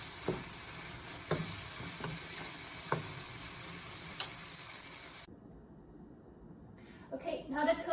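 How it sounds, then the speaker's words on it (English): Tomato and eggs stir-fried in a wok give a bright, steady sizzle with a few scraping stirs, then the sizzle cuts off and brief clatter follows near the end. "now let's stir them all together"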